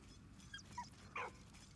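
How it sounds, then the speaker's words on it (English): A dog in the World War I video game Valiant Hearts: The Great War gives a few short, high yips or whimpers, three brief bursts over a low, steady background rumble. "What you barking at, puppy?"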